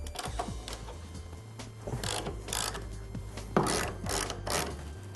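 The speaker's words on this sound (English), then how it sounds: "First, loosen the nut on the axle." Ratcheting clicks and metallic mechanism noises come from loosening the axle nut on a Honda CBR250R motorcycle wheel. Irregular bursts of ratchet and tool sounds sit close up, with no talking.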